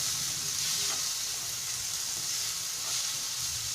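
Masala for black chickpea ghughni fries steadily in a pan, a loud continuous sizzle with faint stirring scrapes and no talking.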